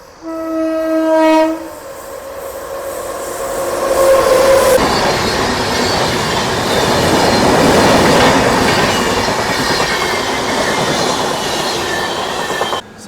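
A loud train horn blasts, then a train thunders past close by a halted MEMU passenger train between Gudur and Renigunta, with a continuous roar, rattle and clatter of wheels.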